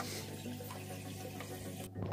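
Water runs and splashes steadily into an aquarium container, a continuous close-up pour lasting about two seconds with a brief dip near the end.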